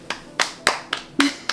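A child claps for a cake baker at home: six separate, close, sharp hand claps at a slightly uneven pace, spaced about a third of a second apart.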